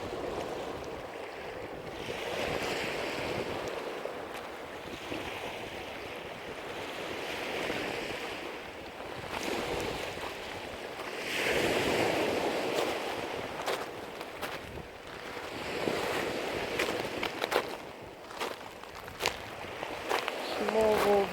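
Sea waves wash onto the shore at Walney, Barrow-in-Furness, as a steady surging rush that swells and recedes in slow cycles, with footsteps and occasional talk over it.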